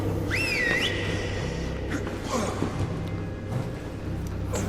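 A short whistle is blown in the video game Deadlight, one clear rising-then-steady tone near the start that rings over a dense, constant low background of game sound.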